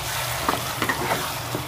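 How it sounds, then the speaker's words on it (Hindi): Vegetables frying in a pan as mustard paste is stirred in, with a steady sizzle broken by a few quick scraping strokes of the spoon. "अब हम सरसों का पेस्ट इसमें ऐड करेंगे और इसको अच्छी तरह से हम मिला लेंगे"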